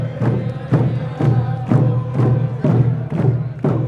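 Large crowd of thousands gathered at Centennial Square in downtown Victoria for a salmon migration finale, heard as a loud, continuous roar with rhythmic heavy thumps, like drums, recurring about every half second throughout.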